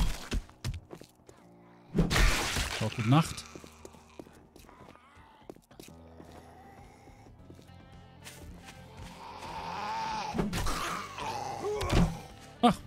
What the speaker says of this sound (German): Schon wieder eine Wanderhorde? Das hört sich so an, als wenn das ein paar mehr Zombies sind.